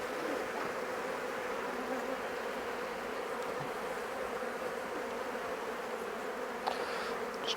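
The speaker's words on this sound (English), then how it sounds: "Just try and avoid crushing some bees" Honeybees swarm in a dense, steady buzz around an open nuc hive during a mite treatment, with a faint scrape heard near the end.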